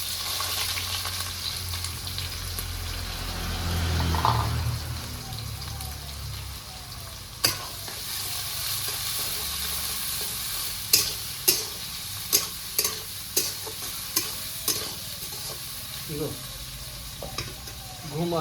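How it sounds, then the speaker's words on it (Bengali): Onion fries in oil with two dried red chillies and whole cumin, a steady close sizzle broken by a run of sharp spatula taps and scrapes as it is stirred. "পেঁয়াজটা এদিকে আমার ভালো করে ভাজা হয়ে গেছে, তেল ছেড়ে দিয়েছে।"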